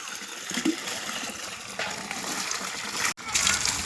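Banana leaves being washed under running water from a pipe, a steady close gush and splash of water with shifting bursts as leaves are moved through the stream.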